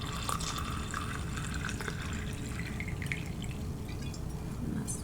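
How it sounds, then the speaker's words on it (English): Tincture liquid made with agave is poured into a jar up to the brim, giving a steady, close trickling and splashing of liquid that carries on throughout with no talking. "So again, we're gonna just pour all the way to the top."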